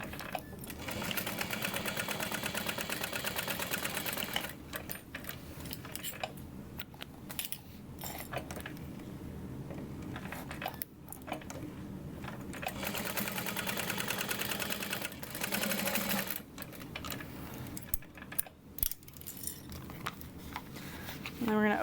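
Sewing machine stitching a 3/8 inch seam on a bag, a fast continuous mechanical whirr close by, running in bursts with short pauses between runs.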